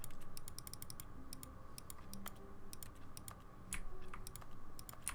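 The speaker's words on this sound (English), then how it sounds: "Clicking on nothing, but it sounds like a keyboard." Rapid, crisp clicks from a computer mouse clicked repeatedly with nothing selected, sounding just like typing on a keyboard; irregular bursts of close, fairly quiet taps over a low background hum, with no voices.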